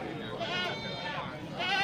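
Goats kept for fattening at a livestock sale bleat nearby, with wavering cries at the start and again at the end over a steady background.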